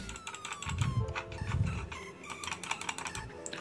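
Clicks from a Kitech M10 wired USB mouse, a quick series of sharp taps close to the microphone, set against soft background tones with no speech.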